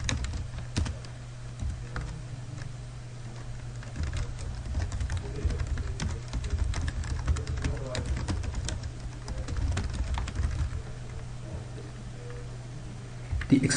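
Steady, close computer keyboard typing with rapid uneven key clicks continuing throughout as a query is entered, and a voice talking over it.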